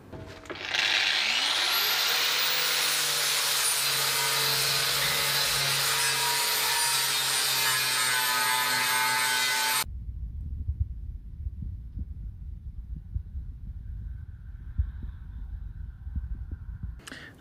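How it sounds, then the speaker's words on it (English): A power grinder smooths welds on steel tubing fender flares for a Jeep XJ. Its whine spins up and holds as a loud, harsh, steady grind for about ten seconds, then cuts off, leaving faint low scraping and handling noise. "grind down these welds on the edge of the tubing now and just kind of make it smooth"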